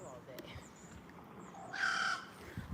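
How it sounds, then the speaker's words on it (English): Near a gator hole, a loud bird lets out a harsh, cawing call, one strong burst standing out over quiet outdoor background noise. "What kind of bird is that? It's loud."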